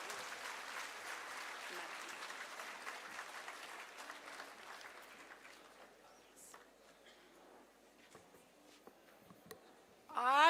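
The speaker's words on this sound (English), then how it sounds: "Please welcome her with a heartfelt and resounding round of applause." Applause at a Mahatma Gandhi Jayanti celebration for the International Day of Non-Violence, fairly soft clapping from an audience that thins and fades out, followed by scattered noises and a sharp sound at the very end.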